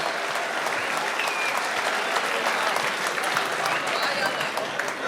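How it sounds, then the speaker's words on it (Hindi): Sustained, dense applause from a large audience at a mushaira poetry recital in Dubai fills the clip steadily from start to finish, close and loud. "जोरदार तालियों से एक बार स्वागत किया जाए"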